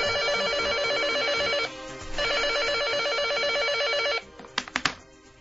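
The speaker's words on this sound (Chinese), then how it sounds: "原来宋龙琴那天回家后不久接到了一个电话。" A telephone rings in two long electronic bursts with a short pause between, a loud, close sound effect for a crime radio drama, followed by a few sharp clicks as the handset is picked up.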